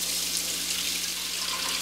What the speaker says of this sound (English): we'll fill our sink with some warm water